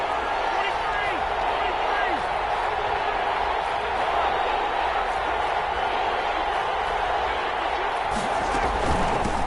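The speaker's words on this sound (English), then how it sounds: "the crowd getting into it as we come up on a big third down" A stadium crowd in an American football video game, Chargers versus Chiefs, roars in a steady, dense wash of cheering that holds loud and unbroken throughout, with no distinct talk standing out.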